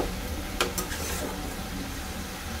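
Water spinach with salt and turmeric stirred in a pan over a gas flame, a soft continuous sizzle with a couple of brief scraping clinks early on, close and steady with no talk.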